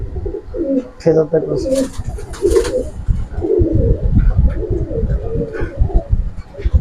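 Pankhi pigeons coo in low, throaty rolling calls, close by and repeated throughout, mixed with soft rustling, while someone speaks over them.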